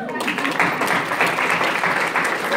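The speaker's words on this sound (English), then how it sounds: "Give her a round of applause." An audience applauds a singer right after her solo, a dense, steady wash of many hands clapping at close range that fills the whole stretch without a break.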